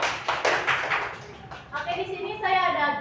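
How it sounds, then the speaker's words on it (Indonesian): Classroom applause for a student during an accounting micro-teaching lesson: a burst of scattered hand clapping from a group, fairly close, tapering after about a second and a half as a voice begins talking over the tail. "Tepuk tangannya dong buat Saputra"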